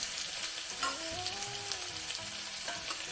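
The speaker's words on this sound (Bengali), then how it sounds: "লাল করে ভাজতে হবে এটা পেঁয়াজটাকে" Two medium chopped onions frying in a pan for dhaba-style dal makhani, a steady sizzle with stirring scrapes, fairly close and continuous with no talk.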